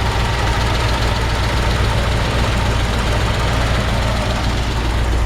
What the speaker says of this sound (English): Over idled, just a hair, but listen to that engine. Sounds awesome.